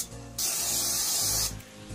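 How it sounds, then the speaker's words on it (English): Close, steady hiss of L'Oreal Professional Constructor heat protection hair spray, a single continuous burst of about one second from an aerosol can, with no talking. "This is just a heat protection spray that helps to keep the volume in your hair."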